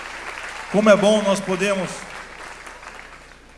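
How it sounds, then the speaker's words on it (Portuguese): A church congregation applauds through a steady wash of clapping while a preacher speaks and sings over it, the applause carrying on and fading after the voice drops away. "Aplauda ao Senhor, igreja"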